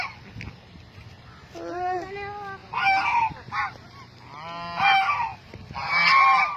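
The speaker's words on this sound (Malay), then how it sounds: "Kita tengok angsa." Several geese honk in loud, repeated bursts nearby, with short pauses between calls and a faint voice in the background.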